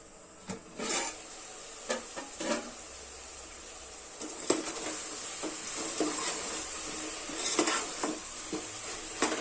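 Potato and eggplant curry stirred in a pan, a steady sizzle under repeated scraping and clinking strokes of a spoon against the metal, close and moderately loud.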